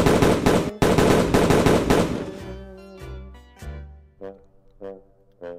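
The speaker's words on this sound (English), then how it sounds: "Shoot him in the face." Rapid, loud bursts of gunfire aimed at a man in a suit inside a store, a dense volley for about two seconds that gives way to ringing tonal hits and fading resonant strikes.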